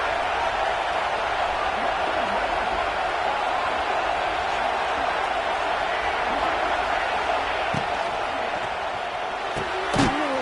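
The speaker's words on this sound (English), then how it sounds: "this crowd is fired up. Listen to this noise here" Dense, steady stadium crowd roar from a College Football 26 game at an LSU home venue, loud and continuous throughout, with a brief sharp burst near the end.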